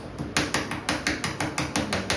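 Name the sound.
dot matrix printer printing, pins hammering the ribbon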